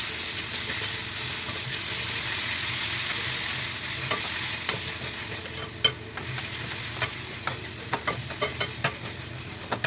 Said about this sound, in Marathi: सर्व एकजीव करून घ्यायचं